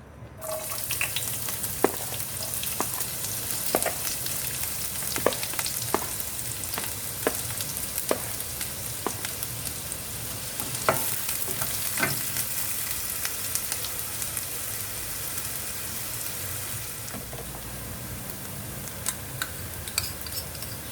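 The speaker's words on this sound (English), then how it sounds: "We'll wait until the oil becomes hot and then put the onions" Onions fry in hot oil for a recipe of Indian street food ragda pattice, giving a continuous moderate sizzle with intermittent spoon clicks and stirring scrapes throughout.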